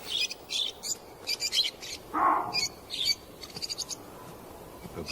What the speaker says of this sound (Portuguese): Periquitos se abrigam na sombra das rochas.